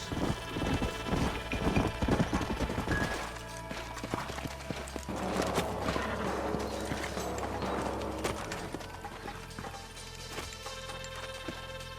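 Horse hooves clip-clopping in the video game Red Dead Redemption, a rapid close rhythm of hoofbeats that slows and fades into a game music bed, with a brief whinny and no speech.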